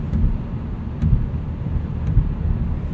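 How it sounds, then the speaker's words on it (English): Low, rumbling buffeting of wind against a microphone on a windy day during a drive in a 2016 Hyundai Veloster Turbo Rally Edition, steady and loud throughout, with a few faint clicks in the background. "It's a little bit windy today, so wind noise is a little bit more than you would normally expect."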